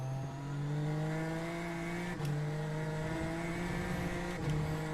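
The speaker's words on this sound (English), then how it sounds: "Car sounds awesome. Yeah," Engine of an F3 race car in the iRacing sim, a loud, steady high-revving drone with stacked harmonics holding pitch, briefly dipping twice as if on a gearshift, heard close and alone.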